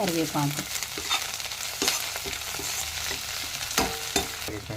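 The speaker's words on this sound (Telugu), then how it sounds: "కరివేపాకు వేసి వేపుకుందాము" Curry leaves hitting hot oil in a pan with green chillies, giving a loud bursting crackle at the start, then a steady sizzle with stirring scrapes and a few sharp pops, all without talk.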